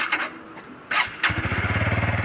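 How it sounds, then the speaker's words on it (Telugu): A Bajaj Pulsar P150 motorcycle is started on its self-starter in neutral on the side stand: a short crank, then the engine catches and settles into a steady, rapid, close exhaust idle thump. "ఒకసారి ఎగ్జాస్ట్ నోట్ అయితే విన్నారండి"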